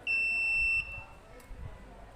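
A poultry house control panel's high-temperature alarm sounds as one loud, steady electronic beep lasting under a second, then cuts off, leaving faint room hum and a soft background voice.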